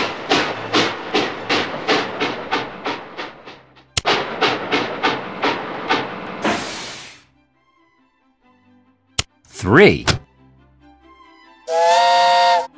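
A cartoon steam train in a PBS Kids Curious George train station game chuffs in a fast, regular run of loud puffs, falls silent after a couple of sharp bangs, then a bright steam whistle sounds.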